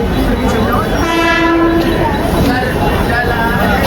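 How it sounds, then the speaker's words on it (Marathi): A train arrives at a platform while its horn sounds loudly for about a second, over the steady roar of rolling cars. Voices of a crowd are mixed in underneath. "ट्रेन आलेली आहे काय."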